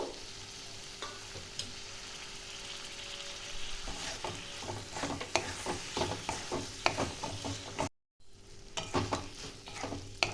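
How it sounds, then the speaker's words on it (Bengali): Minced mutton sizzles in a kadai with a little fat while a spoon stirs and scrapes repeatedly, the frying steady and close, with a brief cut near the end. "এবার দিয়ে দেবো মটন এখানে কিমা কড়াই আছে"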